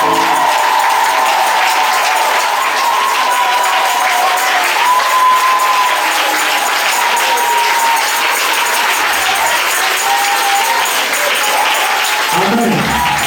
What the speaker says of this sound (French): ces anciens-là, acclamez-les.